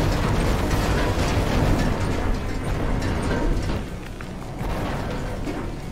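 A furnace being beaten up in the video game Night in the Woods gives off a loud, steady roaring rumble with dense mechanical clatter, sustained throughout with a slight drop partway, and no voices.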